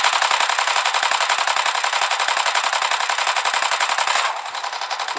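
Rapid automatic gunfire in a play-to-earn shooting video game, aimed at an animal, rattling in a dense steady burst for about four seconds before easing to a lighter continuing stream of shots.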